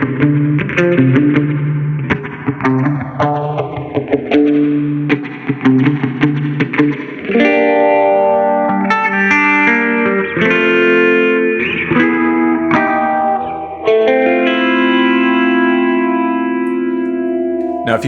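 Electric guitar run through a full pedalboard with distortion, chorus, echo and reverb, a driven, swirling intro riff with sweeping modulation, loud and close with no talking.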